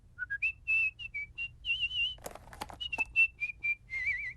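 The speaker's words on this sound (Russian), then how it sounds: "Кажется, мой бесталанный сын научился свистеть." Maggie Simpson whistles a tune in The Simpsons cartoon. Clear, high melodic notes come in short phrases, broken midway by a brief burst of noisy clatter, before the whistled melody resumes.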